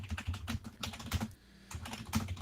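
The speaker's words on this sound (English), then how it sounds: "I don't want to hear a single word about my typing" Rapid typing on a computer keyboard, close and clear, with uneven bursts of keystrokes and a brief pause near the middle before the clatter resumes.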